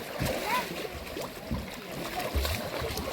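A swimmer glides through a farm pond, making soft splashes and sloshing water close by, with a voice talking over the gentle churning.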